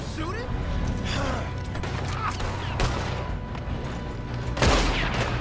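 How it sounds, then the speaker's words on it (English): Gunfire in the Western video game Red Dead Redemption II, several sharp shots and bursts crackling through a busy mix, with players talking over the game sound throughout. "Are you shooting?"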